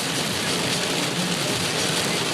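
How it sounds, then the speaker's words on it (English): Heavy thunderstorm rain pounds a car driving at about 40 miles an hour in Miami, a loud, steady broadband roar of downpour on the body and windshield with no break. "you thought driving in the rain was bad"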